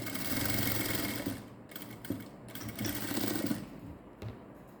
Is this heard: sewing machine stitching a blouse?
yes